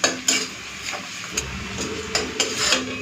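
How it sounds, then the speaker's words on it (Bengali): Green chillies fry in hot oil with garlic and onion, a soft sizzle running underneath as a metal spatula scrapes and taps the pan in irregular strokes, close and clear, with no talking. "কাঁচা লঙ্কা ভাজা হয়ে গেছে, এখন তুলে নিচ্ছি।"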